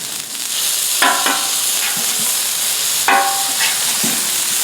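A Beyond Meat burger patty sizzles steadily in a pan after being flipped, a constant loud hiss with a couple of sharp scraping knocks from the spatula.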